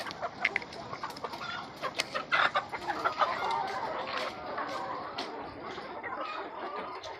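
Hens cluck and squawk in a flock, with repeated close, sharp calls rising and falling over a dense background of softer clucking.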